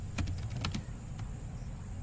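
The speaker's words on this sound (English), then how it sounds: "Like I am typing" Light tapping on a computer keyboard, a quick cluster of several keystrokes followed by a lone later press, faint and close against a quiet room hum.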